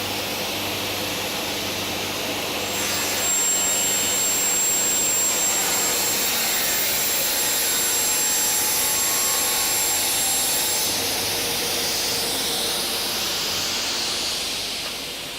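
A saw fitted with a fine-toothed finishing blade cuts through melamine board, a loud continuous roaring whine that holds steady for the full length with no talking.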